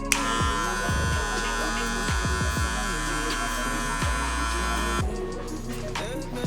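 An electric hair clipper buzzes steadily and close by, its lever fully open, while cutting a low fade. It stops abruptly near the end.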